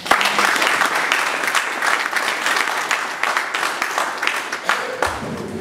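A church congregation at a memorial service claps in sustained, dense applause that fills the whole stretch without a break, with a few voices mixed in.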